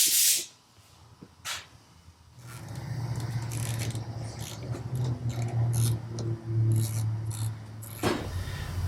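A motorcycle rear shock, KTM XC or Husqvarna TX, has its bleed bolt backed out, giving a sharp hiss at the start and short bursts of escaping pressure, followed by a steady low mechanical hum with brief ticks.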